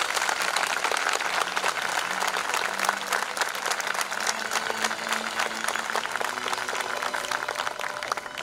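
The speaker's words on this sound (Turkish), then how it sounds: "Gerçekten candan bir alkış istiyorum bu çocuklar." Warm, dense applause from the audience at a 2022 high school graduation ceremony honoring the graduating students, steady and continuous throughout with a faint low hum beneath.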